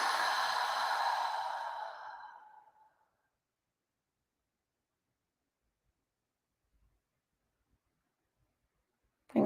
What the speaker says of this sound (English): Just taking a few cleansing breaths.